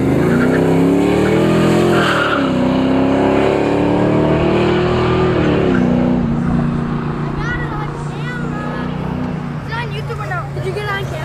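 A car with a supercharged 454 big-block V8 skids with loud tire squeal and a droning, revving engine up close, the squeal wavering toward the end while voices shout over it.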